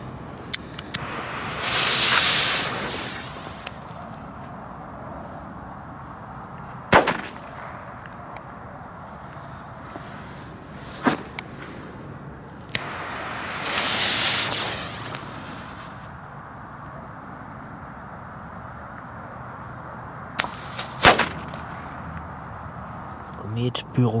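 Komet Blizzard firecrackers burst in a few scattered sharp bangs, some close together, separated by longer hissing fizzes and quieter gaps.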